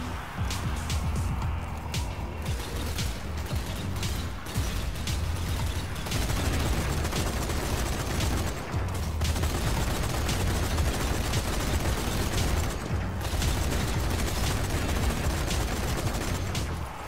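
Sustained automatic gunfire from an overheating weapon in the zombie shooter Zombie Army 4, dense and continuous bursts with brief gaps, loud and close throughout.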